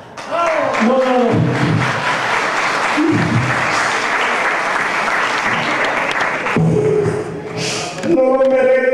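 Loud, close applause from a music event audience for Colombian music masters, dense clapping that swells and holds for several seconds, with someone speaking at the start and again at the end.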